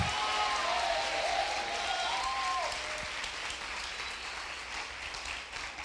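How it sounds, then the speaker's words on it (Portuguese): Church congress audience applauding Jesus, a thick continuous wash of clapping with a faint tonal whistle or cheer rising briefly in the middle, steady and full throughout. "Se esse aplauso é para Jesus, pode ser mais forte e misturado com glória a Deus."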